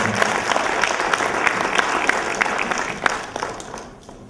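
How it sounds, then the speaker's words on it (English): Audience applause at a regional conference on liberalisation of the services sector, given for an engineer: a steady burst of many hands clapping from a sizeable crowd, fading out toward the end. "let's give her a applause"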